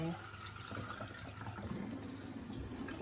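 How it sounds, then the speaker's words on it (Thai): Water poured into a sausage casing to rinse it while making Thai rice sausage, a soft continuous trickle and slosh of liquid, faint and close, with someone talking over it. "ก็ล้างอีกทีหนึ่งเอาน้ำกรอกลงไป"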